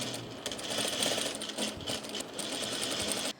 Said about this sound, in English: the gathered portion of the dress is being attached to the top portion of the dress